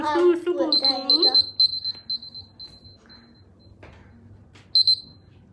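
A kitchen-style timer beeps in rapid electronic chirps while someone talks over it, then falls quiet before one last short burst of beeping near the end.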